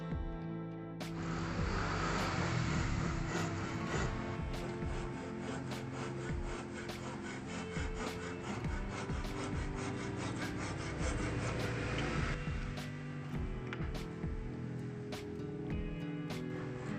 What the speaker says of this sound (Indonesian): Dan alat yang kita gunakan, kita menggunakan gergaji pruning.